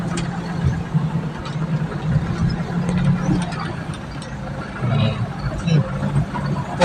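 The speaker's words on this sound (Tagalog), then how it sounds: "Paminaw ni mo makina." A car engine during driving practice gives a steady mid-low hum that swells slightly now and then as gas is applied, running continuously close by.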